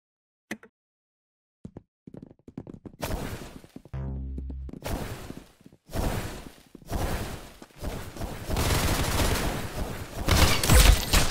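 Gunfire from the Roblox-style shooter Arsenal: scattered single shots early, then dense bursts of close, loud firing with impacts building toward the end, no talking.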